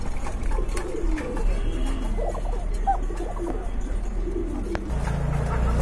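Racer pigeons for sale in a loft coo in low, throaty phrases that repeat throughout, close by over a steady background hum, with other birds faintly audible.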